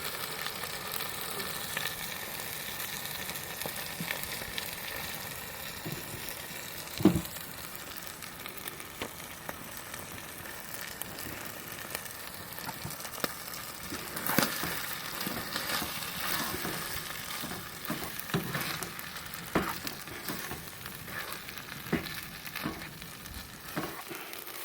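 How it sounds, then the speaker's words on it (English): Three eggs frying for a camp breakfast scramble, a steady soft sizzle running for a long stretch outdoors with occasional faint scrapes and pops. "I'll cook up the eggs a little bit and we'll have a scramble for breakfast"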